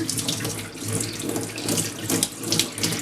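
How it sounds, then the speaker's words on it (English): Tap running warm water into a bowl, a steady close splashing and gushing stream for the full few seconds, with no talk over it. "So then I'm going to put into a bowl some warm water."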